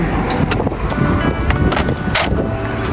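Strong wind buffets the microphone in rough, continuous gusts, a loud rumbling roar with brief sharper bursts.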